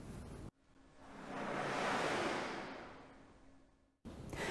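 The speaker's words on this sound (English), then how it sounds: "Wolf asks the brass players to blow through their instruments without making a pitched sound" Brass players blow air through their instruments without sounding a pitch, making a soft breathy whoosh that swells up, peaks and fades away over a few seconds, faint and alone between short bursts of other sound.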